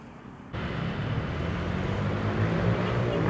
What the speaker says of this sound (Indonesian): Berisik tuh, ada motor.